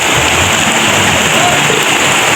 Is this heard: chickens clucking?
no